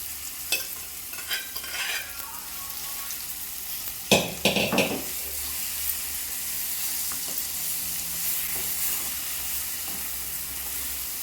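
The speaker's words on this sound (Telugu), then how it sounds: "ఇప్పుడు ఉడికించుకున్న మటన్ పీసెస్ని ఇందులోకి వేసుకుంటున్నాను." Boiled mutton pieces hit a hot pan and sizzle steadily, with a few scraping stirs and clatters near the start, then a continuous close hiss of frying.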